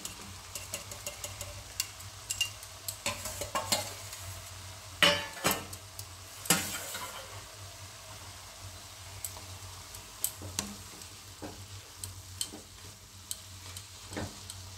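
Potatoes fry in a pan for a Bengali radish and green pea dish, a soft continuous sizzle broken by sharp spatula scrapes and clatters as they are stirred.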